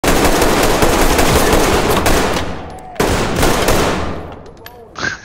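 Rapid automatic gunfire in the tactical shooter Ready or Not crackles loud and close, fading briefly before a second sharp volley, with faint talk near the end.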